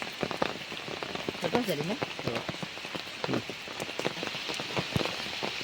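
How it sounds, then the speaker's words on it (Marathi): Steady rain falls outdoors near a farm field, a dense patter of drops on surfaces throughout, with people talking briefly over it. "बघा पाठीमागे पाऊस बघा किती लागता असा"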